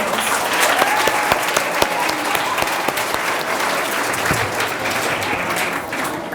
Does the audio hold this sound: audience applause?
yes